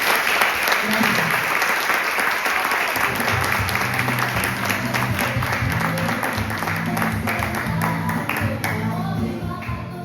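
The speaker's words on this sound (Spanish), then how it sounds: "nuevamente un fuerte aplauso" Sustained audience applause fills the room after an oral storytelling performance, steady and fairly loud for the whole stretch, with dense clapping and a low murmur of crowd underneath.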